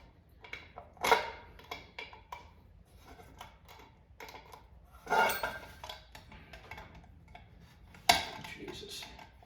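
Pliers grip and twist a cast aluminum nut on an arcade machine part, producing faint metallic clicks and scrapes with three sharper, louder clanks spread across the stretch.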